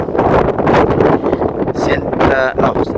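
Strong wind off the sea in France buffets the microphone in loud, gusty roars, with brief bursts of other noise near the end.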